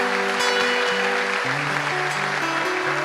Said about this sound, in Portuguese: Aplaude o Senhor, irmãos